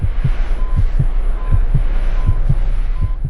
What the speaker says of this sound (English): You can hear the sounds of a heartbeat monitor and see the faint overlay of an EKG on the screen